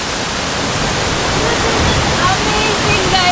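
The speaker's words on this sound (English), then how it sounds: "Guys, this is Kottapalli waterfall in Andhra Pradesh." Kottapalli waterfall in Andhra Pradesh pours in a loud, continuous broadband rush of falling water, steady and close throughout, with no pauses or changes in intensity.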